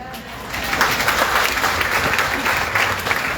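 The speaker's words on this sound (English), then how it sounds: "So did everyone clap?" An audience at a political address claps together, producing a dense, loud wash of applause that runs unbroken for a few seconds at fairly close range.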